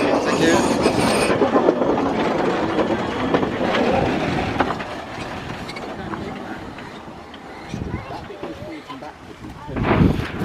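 A live steam train at Woody Bay station, with rail and wheel clatter and mechanical rumble close by, fading somewhat midway before a louder burst near the end, with people talking nearby.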